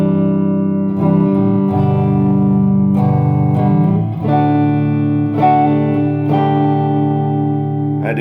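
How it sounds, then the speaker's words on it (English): A Squier Bullet Strat electric guitar on its rhythm pickup plays clean, ringing chords and notes, each strum sustaining and overlapping the next at steady, close volume. "This is the rhythm pickup, right? It's just a few clean tones right now."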